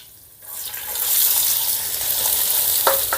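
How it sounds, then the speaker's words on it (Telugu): Onions sizzle in hot oil with cumin seeds, garlic cloves and curry leaves, a loud steady hiss that swells after a quiet start, with a couple of faint clinks of stirring near the end. "ఇప్పుడు ఈ ఉల్లిపాయల్ని లేదా బంగారు వర్ణం వచ్చేంత వరకు వేపుకుందాం"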